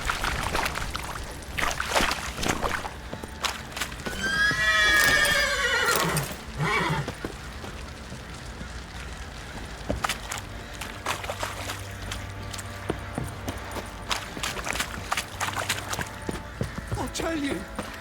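Roach, the horse in The Witcher 3, lets out a loud whinny partway through, with hoofbeats and game sounds running underneath and a voice talking in places.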